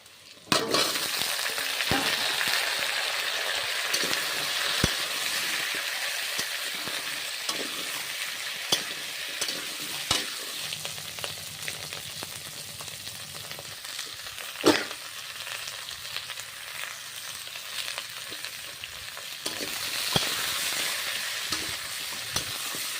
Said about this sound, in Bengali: রসুন কুচির কাঁচা গন্ধটা বেরিয়ে গিয়েছে তো এবার আমি তরকারিটা ঢেলে দেবো